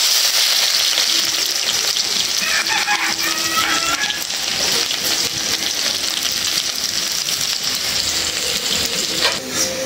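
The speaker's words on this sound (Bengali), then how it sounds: "পেঁয়াজটা একদম ভালো করে ভেজে নিলাম বেরেস্তার মতো করে" Onions frying in oil until golden and crisp for a Bengali fish bhuna with taki fish, a steady close sizzle with stirring scrapes throughout.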